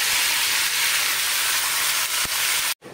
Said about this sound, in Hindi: अब हम अपनी चिकन को फ्राई करेंगे। हमने ऑयल डाला था